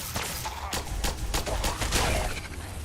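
Plasma gun fired in Fallout 4, a rapid burst of sharp energy shots in quick succession, loud and close.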